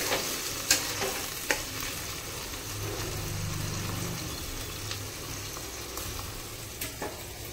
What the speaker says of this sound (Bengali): মশলাটা কষা হতে থাকবে